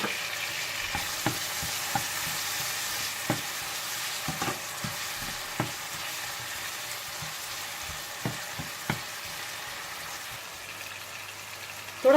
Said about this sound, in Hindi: आप इसमें चाप किया हुआ अदरक लहसुन डालकर मिला लें